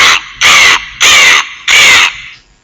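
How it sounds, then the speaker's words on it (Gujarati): A crow cawing three times in loud, harsh, evenly spaced calls, close and clear with brief silences between them, used as an educational sound effect. "કાગડો કેવી રીતે અવાજ કરે?"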